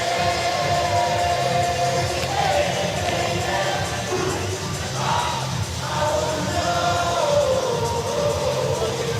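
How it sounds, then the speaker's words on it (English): A full-capacity stadium crowd at a Savannah Bananas versus Party Animals Banana Ball game in North Carolina roars steadily, with yells and cheers rising from a dense, continuous wash of noise. "Full capacity crowd fired up for the 2nd ever Banana Ball game to take place in the Tar Heel State."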